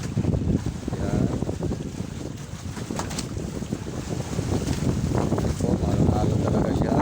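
Storm waves and gusting wind at sea during a typhoon, a steady roar of rough water with wind buffeting the microphone, loud and continuous from near, with someone talking over it at times.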